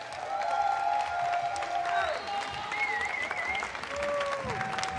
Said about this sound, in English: A big round of applause for all of our YouTube creators, guys.